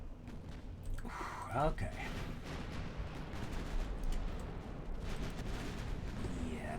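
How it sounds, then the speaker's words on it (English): Naval shells from Ultimate Admiral Dreadnoughts pound in a dense, rumbling barrage of gunfire and blasts around a battleship, a steady roar with one brief spoken word over it. "Incoming shells at my battleship."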